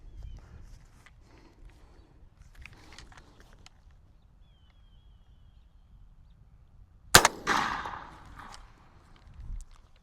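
A 12-gauge shotgun loaded with buckshot fires a single sharp, loud blast at an outdoor range, then fades through a short echoing tail. The rest is quiet.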